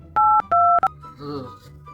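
Three short, loud phone keypad tones are dialed in quick succession, each a clean two-pitch beep. A brief murmur follows.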